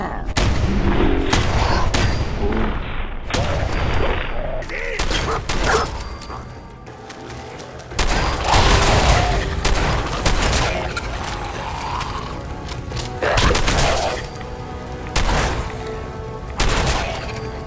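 Shotgun blasts in a first-person shooter video game, heavy booming shots repeated in several rapid sequences with mechanical racking sounds between them, loud and close, with a voice talking in places.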